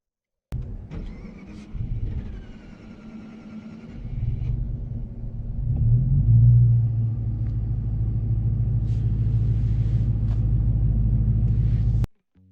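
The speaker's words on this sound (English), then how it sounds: "I was remote starting it for a video that I was going to make with the night drive for this car" A Dodge Challenger R/T, started by remote at night, cranks and catches into a loud, steady low engine rumble that holds for several seconds and then cuts off abruptly, with no talking.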